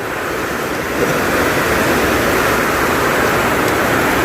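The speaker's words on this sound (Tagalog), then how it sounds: "Lakas ng ulan, bagyo." A dense, steady roar of heavy storm rain fills the clip, loud and unbroken like a downpour beating on surfaces nearby, with water leaking through a wall.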